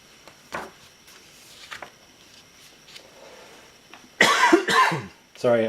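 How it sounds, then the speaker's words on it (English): Several sharp coughs from someone suffering hay fever, coming in a loud cluster near the end, with quieter background sounds before them. "so I'm a bit coughing a bit"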